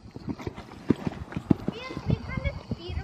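A horse works at a rising trot in a riding lesson, its hooves giving a steady two-beat clip-clop up close while a rider and instructor talk over it.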